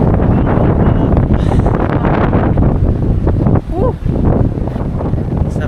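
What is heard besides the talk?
wind at the seaside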